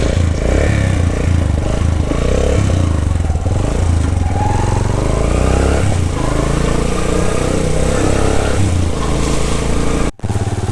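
Motorcycle ridden on a winter mountain road from Upper Neelum to Kel, a loud, continuous engine drone mixed with wind buffeting and road rumble that cuts out abruptly near the end.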